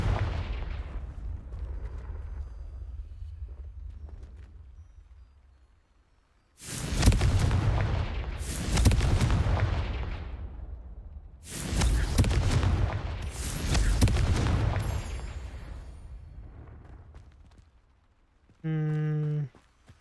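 Blasts from the Confringo explosive curse in Hogwarts Legacy boom out in several heavy, loud bursts with rumbling decay, and spoken spell words come before and between them.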